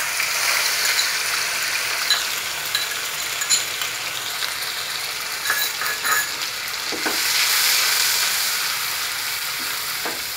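Ginger garlic paste sizzles and fries in a pan for chicken fry. The bright hiss is loud and close, with a few stirring scrapes and clinks and no talk.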